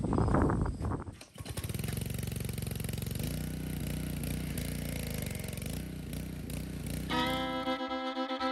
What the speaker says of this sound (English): Now let's get our power washer.